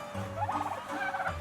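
Turkey toms on a farm let out a quick rattling gobble, a brief burst of warbled calls at moderate distance over a low ambient hum, with no voices.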